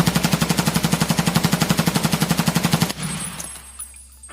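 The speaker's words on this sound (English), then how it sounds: "I'll just shoot it without helping it, standing up" A player fires an automatic gun while standing in a PvP video game: a loud rapid burst of evenly spaced shots runs for about three seconds, then cuts off into a faint tail.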